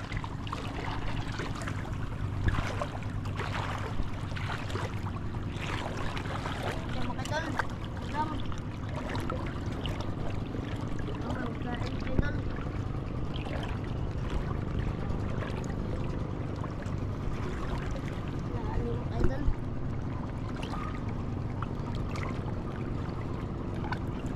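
An early-morning small fishing boat motor drones steadily over the water, with occasional splashes and faint voices in the background.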